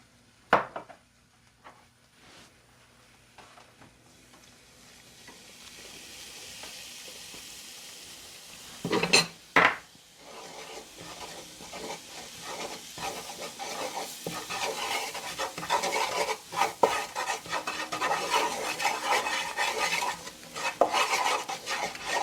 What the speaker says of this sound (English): add my vegetable oil to burn my curry